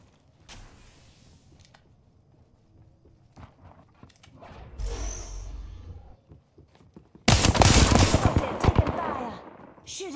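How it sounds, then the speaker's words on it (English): Gunfire in the battle game Apex Legends, bursts of rapid shots with clicks and mechanical clatter, building to a loud dense volley near the end, with brief voice sounds. "Taking fire. Shooting. Reloading."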